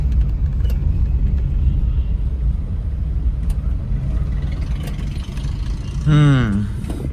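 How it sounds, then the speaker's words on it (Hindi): A Suzuki Cultus drives through heavy city traffic, with a steady low engine and road rumble throughout and a brief rising tonal horn or siren near the end. Voices can be heard talking over the traffic. "भरपूर ट्रैफिक का हमें सामना करना पड़ रहा है"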